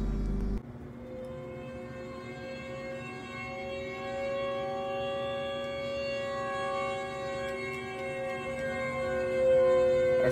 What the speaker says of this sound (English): Siren sound suddenly out of nowhere.